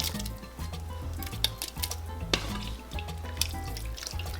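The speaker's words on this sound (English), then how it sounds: "we got our pot of water and we're just adding our meat" Meat dropped into a pot of water for menudo, with splashing and watery patter near and steady, a few sharper splashes standing out against continuous running-water sound.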